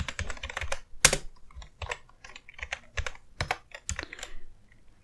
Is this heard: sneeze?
no